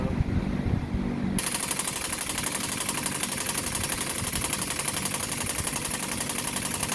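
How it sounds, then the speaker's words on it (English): A Suzuki Forenza engine runs steadily with a loud, rapid clacking from its lifters, a dense mechanical ticking that carries on without a break from start to finish and grows louder just after the first second. "we got the Suzuki running real good. The only issues we're having right now is we're getting a loud clacking from the lifters"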